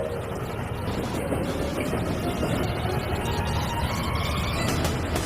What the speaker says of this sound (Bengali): নোলান, ট্রেনটাকে পাঠাও। ট্রেন আসছে।